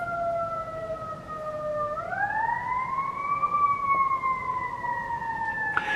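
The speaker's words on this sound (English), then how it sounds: "I feel like the siren is coming into our neighborhood" A steady emergency siren wails throughout, its tone sliding upward partway through and holding high, moderately loud with a constant background rumble.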